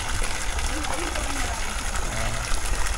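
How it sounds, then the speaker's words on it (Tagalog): At a resort pool fed by a natural spring, water pours in with a constant broad rushing hiss. Muffled voices and a low hum sit beneath the flow. "Galing to sa bukal yan, oh, yung tubig nagagaling sa bukal yan"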